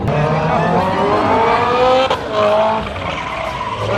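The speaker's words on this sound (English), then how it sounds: "He's doing reverse donuts." A BMW E46 M3 engine roars steadily while tires squeal and skid continuously during reverse donuts in front of a crowd, loud and close, with a brief dip in the middle.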